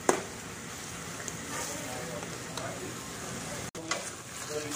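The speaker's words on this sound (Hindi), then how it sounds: "तो ये जो मसाला जो है देखिए भून चुका है अच्छे से" Spiced masala for chickpeas (chole) sizzles and is stirred in a pan on the stove, a steady frying hiss with faint scraping, moderately close and continuous throughout.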